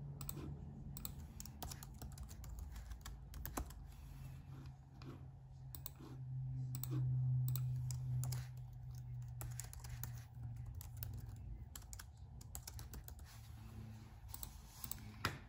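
Fingers type on a computer keyboard while a t-shirt design is set up for a Silhouette Cameo cutter, giving a long run of quick, uneven clicks and key taps over a low steady hum.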